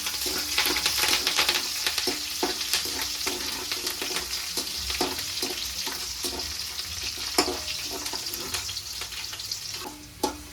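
Green chillies frying in a pan with urad dal and dried red chillies, a steady close sizzle with frequent small pops and clicks, easing off near the end.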